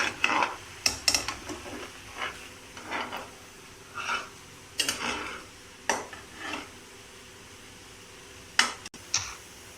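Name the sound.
sugar syrup boiling while being stirred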